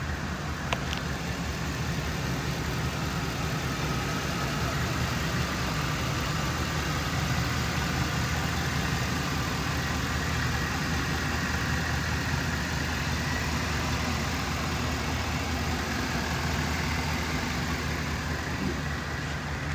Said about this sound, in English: I went ahead and cranked the engine up on this 2012 Chevy Silverado 2500.